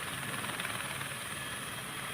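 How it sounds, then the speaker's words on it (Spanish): A Quito fire department helicopter roars overhead during a search operation, a loud, steady, dense rotor-and-engine wash that fills the whole stretch without pause or voices. "Un helicóptero del Cuerpo de Bomberos de Quito colaboró en el operativo."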